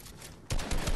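Gunfire in the video game Fortnite: a steady hiss of game sound, then a burst of heavy rapid shots that hits hard and stays loud to the end, with no talk.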